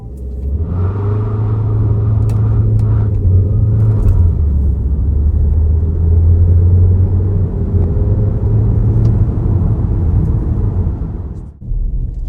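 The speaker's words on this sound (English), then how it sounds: "And here is this car going from 0 to 100." A 2026 Haval H6 HEV hybrid with a dedicated hybrid transmission and front-wheel drive accelerates hard from 0 to 100, a steady, deep engine rumble and road roar holding for about twelve seconds before a brief dip near the end.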